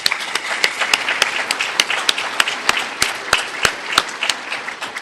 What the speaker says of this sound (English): Please join me in giving all of our nominees a well-deserved round of applause.